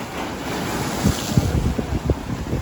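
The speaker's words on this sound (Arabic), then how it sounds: "كاين الريح والبحر، هذه ماشي مشكل" Wind buffets the microphone out at sea aboard a small fishing boat, a loud, steady rushing roar with low thumps of waves slapping the hull in the second half, close and without talking.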